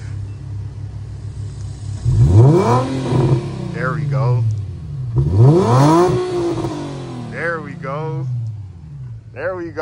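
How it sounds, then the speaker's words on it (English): An Infiniti G35 HR sedan with its resonator deleted is revved twice in short bursts, each a loud rising and falling engine roar close by, with people talking between and after the revs. "I want to go ahead and get a couple revs in here for y'all real quick"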